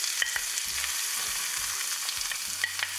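Onions frying in hot oil in a pan over medium heat; a close, even hiss of sizzling with a few low knocks of stirring, no voices.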